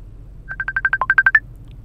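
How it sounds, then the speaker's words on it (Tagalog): A cellphone rings with an incoming call at night, a run of about ten short, evenly spaced electronic tone pulses rising clearly out of a quiet room. "Tumatawag this oras ng gabi."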